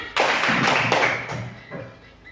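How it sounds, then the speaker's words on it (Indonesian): Schoolchildren in a classroom clap their hands together, a dense burst of applause that starts abruptly, holds for about a second and then tapers off. "Tepuk tangan."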